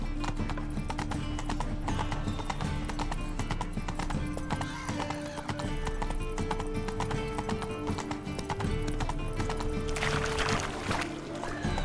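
A horse galloping in The Witcher 3 video game, with rapid clip-clop hoofbeats running steadily and loud throughout, over music and ambient game sound, with a whinny and rider shouts.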